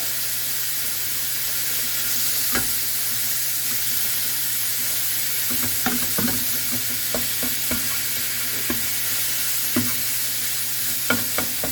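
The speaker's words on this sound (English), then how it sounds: "So I just put that in there, start breaking up my ground beef." Ground beef seasoned with salt and pepper fries in a pan with a steady sizzle, while a utensil breaks it up in scattered scraping, clacking strokes close by.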